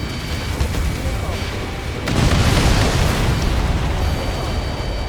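Missiles explode against fuel tankers in the Ace Combat 7 pipeline destruction mission, a dense rumbling roar that swells sharply midway into a heavier burst and keeps booming, with game radio voices over the din.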